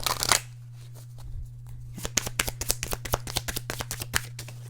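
Tarot cards shuffled by hand. A brief rustle comes first, then after a pause a run of quick, crisp riffling flutters, close and fairly loud, over a steady low hum.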